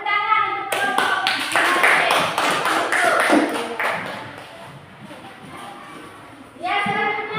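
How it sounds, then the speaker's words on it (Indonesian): A classroom of students claps for a group, a burst of many hands clapping for several seconds that fades out, with a voice speaking before and after it. "tepuk tangan untuk kelompok."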